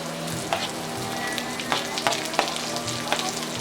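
Carrots frying in hot oil in a pan give a steady, close sizzle with scattered crackles and light scraping taps, no talking.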